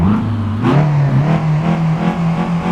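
An old car engine cranks and fires up in Euro Truck Simulator 2, with a loud, close, rising engine drone that settles into an uneven rumbling idle with rhythmic pulses.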